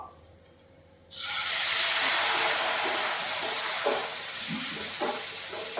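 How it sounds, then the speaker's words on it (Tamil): Water hits a hot pan of egg curry spices with a sudden loud hiss that keeps sizzling steadily for several seconds, with faint clinks underneath. "பச்சை வாசம் போனது நாம் வந்து கொஞ்சம் தண்ணி சேர்க்குறோம்"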